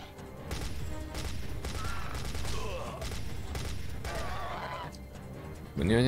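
Gunfire in the Wii shooter Dino Strike: several sharp shots in quick succession over a dense, loud game soundtrack, with a sudden louder burst at the very end.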